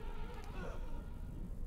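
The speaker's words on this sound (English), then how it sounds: "that flies buzzing sound to really send it over the edge" Flies buzz in a continuous, steady drone throughout a dark horror video game scene, with no talking over it.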